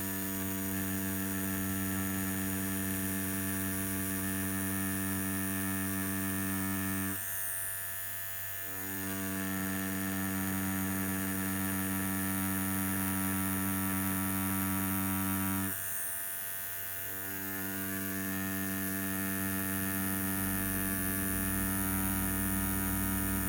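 A Mast Racer Pro tattoo machine runs at its highest torque, giving a steady electric hum with strong tonal whine, cut by two brief dips in pitch and level midway.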